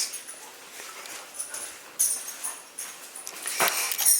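A rambunctious puppy whimpering and yipping softly at close range in a quiet room, short whiny bursts scattered across the moment with a sharper cry near the end.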